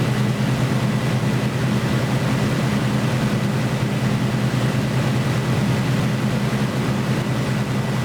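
A Supermarine Spitfire Mk Ia engine roars steadily on takeoff in a flight simulator, a loud, continuous propeller drone with a strong low throb that stays constant throughout.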